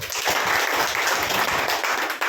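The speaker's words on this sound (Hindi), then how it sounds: "एक बार तालियां बजाओ अपने लिए" Audience applause prompted during a Hindi sales seminar for an English speaking and digital marketing course plan, a dense burst of clapping from a room of people that fills the moment alone and stops abruptly.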